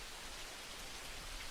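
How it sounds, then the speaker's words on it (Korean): Steady rain falls in an even, dense hiss of drops on surfaces, soft and constant throughout with no other sounds. "빗소리가 들리는 풍경과 함께 오늘의 사연을 들려드립니다."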